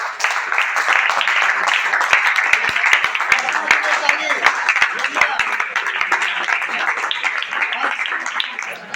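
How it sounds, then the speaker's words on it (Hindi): Dense crowd applause and clapping for a quiz team at a school quiz contest, steady and loud for the whole stretch with scattered sharp claps, with voices mixed in underneath. "एक बार गंगा अपने लिए ताली।"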